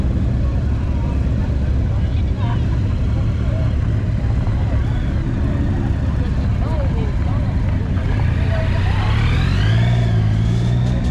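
Cars and vehicles pulling away from a car and bike night at the Bluebell Inn, including a VW van and a Jaguar, with engines accelerating nearby amid steady crowd chatter and a rising rev toward the end.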